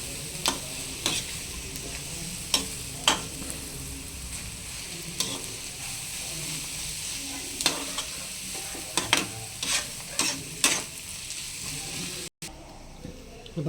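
Half-cooked onions sizzle in a pan for a prawn roast. A steady frying hiss runs throughout, with regular scraping stir strokes close by.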